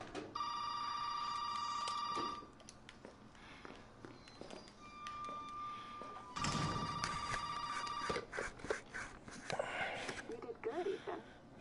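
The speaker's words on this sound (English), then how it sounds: "the phone rings." A telephone rings in Resident Evil 7 played in VR, shrill repeated bursts near and loud, with footsteps, taps and other game sounds between the rings.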